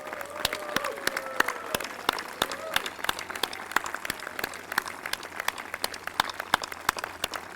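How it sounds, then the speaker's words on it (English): Graduation-ceremony applause for the class of 2020 at Augusta Prep rolls on as a dense, continuous wash of many hands, with a few sharper nearby claps standing out and faint voices beneath. "please join me in one more round of applause for the wonderful class of"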